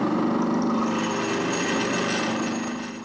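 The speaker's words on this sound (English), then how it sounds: "Half inch reamer." A steady metallic grinding whir of a hand-held drill working a half-inch hand reamer through steel plate, continuous and close, easing off slightly at the end.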